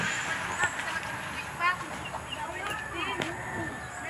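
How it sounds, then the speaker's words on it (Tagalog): Free-roaming chickens cluck intermittently at a moderate distance over steady outdoor background noise, with a few sharper calls scattered through. "may manok pa naman dito pagala-gala"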